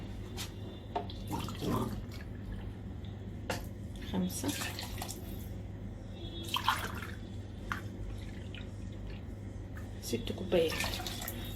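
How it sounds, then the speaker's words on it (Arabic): Water is poured from cups into a cooking pot for koshari in a series of splashing, trickling bursts, with a person talking in between. "انا كده حطيت 4 كوبايات مية."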